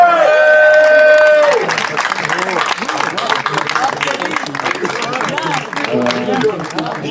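Sustained audience applause and cheering at a local concert, a dense wash of clapping that swells after a final sung note and continues steadily, with voices mixed into the crowd.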